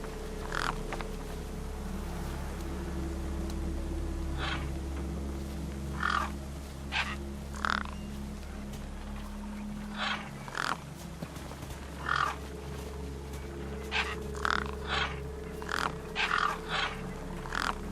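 Birds caw over a corpse in the video game Beyond a Steel Sky, with repeated harsh calls in irregular bursts, some in quick pairs, over a steady low ambient drone.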